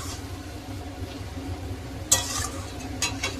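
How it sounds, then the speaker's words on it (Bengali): Prawns fry with spices in a pan for a traditional Bengali ol chingri dish, producing a low continuous sizzle broken by a few sharp scraping and clinking strokes of stirring. "এদিকে ভেজে নিয়ে চিংড়ি মাছটা দিয়ে ওর মধ্যে ভেজে নিয়েছি, ভেজে মশলা দিয়ে এখন চলছে কষানো করব।"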